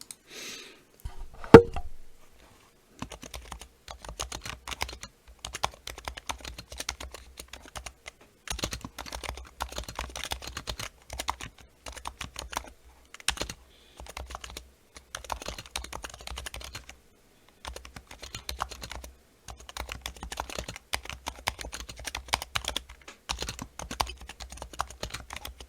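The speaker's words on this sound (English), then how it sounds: "I'm not the world's fastest typer, but I also don't need to look at the keyboard to type" Razer Huntsman computer keyboard being typed on steadily for about twenty seconds, a continuous close clatter of keystrokes with a few brief pauses and no talking.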